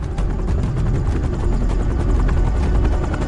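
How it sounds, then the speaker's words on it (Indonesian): Helicopter flying in a film scene, with a continuous loud rotor thrum and turbine whine that stays steady and close throughout, with no speech. "Di dalam helikopter"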